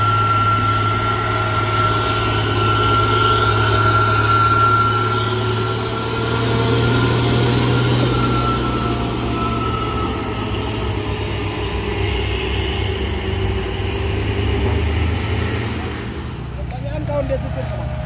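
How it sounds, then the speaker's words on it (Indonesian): A Hino Tronton container trailer truck's engine drones steadily at close range with a low, constant hum and idle rumble, holding level throughout and easing slightly near the end. "Terus truk trailer kontainer Tronton Hino PL."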